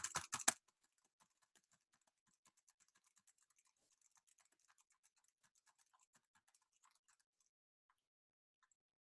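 Quick typing on a computer keyboard, a dense run of faint, close key clicks that slows and thins out, after a brief louder burst of clatter at the start.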